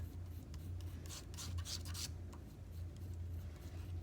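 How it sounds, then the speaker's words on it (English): Palette knife scraping and mixing white paint flat on a palette: soft, repeated rasping strokes, faint and close, over a steady low electrical hum. "Scrape, scrape, scrape with the flat of my palette knife."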